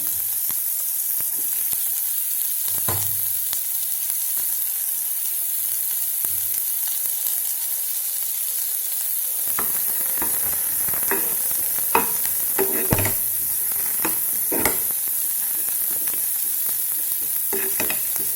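Onions sizzling in hot oil with popped mustard seeds, stirred with a spoon scraping and clinking against the pan; steady frying hiss throughout with intermittent sharper stirring clatters, no voices.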